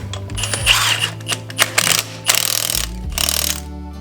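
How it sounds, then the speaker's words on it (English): An impact wrench tightens the flywheel bolt on a Honda GXV 530 engine, firing several loud, rapid hammering bursts of a few seconds each with brief pauses between, close up and without talk. "bring that up for me to tighten down with an impact, which I conveniently have right here."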